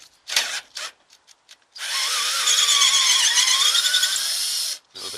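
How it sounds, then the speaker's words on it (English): A power driver spins out Torx screws from the top of a corroded Fiat 500 slam panel: a few short whirring bursts, then one long steady loud run of several seconds, close by with no talk. "So I'm going to go ahead and take off these Torx on top of the slam panel."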